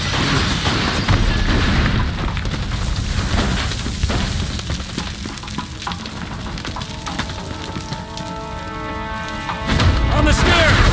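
A grease bomb explodes in the video game Mafia II Definitive Edition with heavy booming blasts and crackling, splintering debris. A second loud burst comes near the end, and a voice speaks over the noise.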